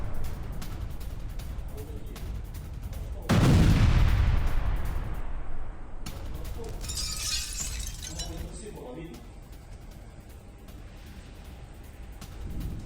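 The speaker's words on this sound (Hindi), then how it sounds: "Su-34 से फैब 1500 बम गिराया गया। ये आया, there it goes N explosion." A FAB-1500 bomb dropped from a Su-34 explodes in news footage, giving one sudden loud blast that rolls into a fading rumble over several seconds, with broadcast commentary heard around it.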